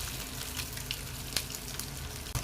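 Chicken kebab pieces deep fry in oil with a continuous hissing bubble, punctuated by a couple of light clinks and pops, close by and without speech.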